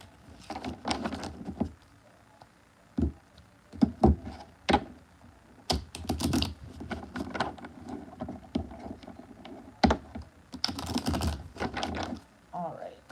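Close, crisp bursts of cards riffling and slapping together, coming in irregular flurries with short pauses between them.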